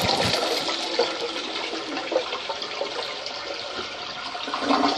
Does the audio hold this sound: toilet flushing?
yes